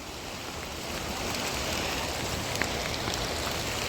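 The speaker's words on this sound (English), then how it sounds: "Now it is a raging fucking river." A small creek swollen by flooding rushes where it joins a larger creek, producing a loud, steady roar of churning water that carries on without a break.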